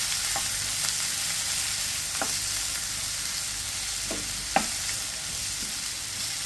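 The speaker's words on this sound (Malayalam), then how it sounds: "ഇതെല്ലാം കൂടെ നല്ല രീതിക്ക് ഒന്ന് വഴറ്റിയെടുക്കണം." Onion, tomato and curry leaves sauté in hot oil in a pan, giving a steady, even sizzle broken by a few soft scraping stirs, with no voices.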